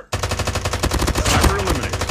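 Rapid automatic gunfire in a Call of Duty team deathmatch, with a loud, close burst of evenly spaced shots that starts abruptly and runs without a break.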